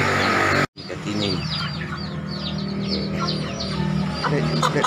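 Pakoi chickens on a farm near Makassar cluck and chirp in a busy flock, many overlapping calls close by against a low steady background hum.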